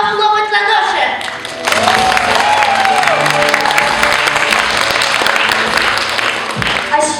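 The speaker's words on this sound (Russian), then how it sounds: "Предлагаю всем участникам нашего фестиваля громко похлопать в ладоши." Festival participants clap loudly in a concert hall, a sudden burst of dense applause from a large crowd that swells and holds, with a voice speaking just before it starts.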